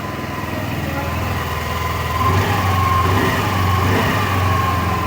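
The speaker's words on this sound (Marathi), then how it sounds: "तुम्हाला मी पहिल्यांदा गाडी स्टार्ट करून दाखवतो" A 2025 Hero Destini 125 XTEC scooter engine starts and idles with a quiet, steady hum close by, swelling slightly after a couple of seconds and then holding even.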